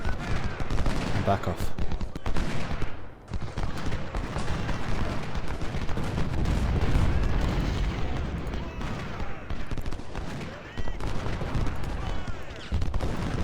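Massed infantry volleys and scattered rifle fire crackle and boom continuously in the Civil War strategy game Ultimate General, a dense, loud battle din with someone briefly speaking over it.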